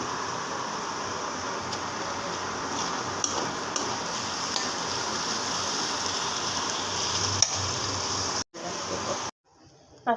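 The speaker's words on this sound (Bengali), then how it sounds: "দিয়ে ভালো করে শুটকিগুলো একটু তেলে ভেজে নেব পেঁয়াজের সাথে" Dried fish frying in oil with onions in a pan, a steady dense sizzle and crackle holding at an even level for most of the stretch, then briefly dropping out near the end.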